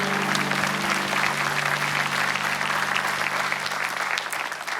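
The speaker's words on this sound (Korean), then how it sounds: "하나님 아버지께 감사와 영광의 박수 올려드립니다" A church congregation at a praise and testimony service claps together in thanks, a loud, sustained wash of many hands applauding for nearly five seconds that fades slightly at the end.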